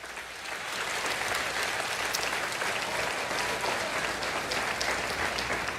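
A congregation in a Spanish-language church service claps in praise, a steady wash of many hands applauding that builds in the first second and then holds evenly, somewhat distant and soft.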